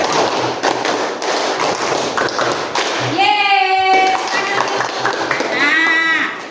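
Students in a classroom clap in counted sets, with sharp taps falling in short rhythmic groups and pauses between them, while a teacher's voice calls out the counts over the claps.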